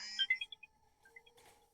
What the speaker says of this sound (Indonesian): dengar suara telepon?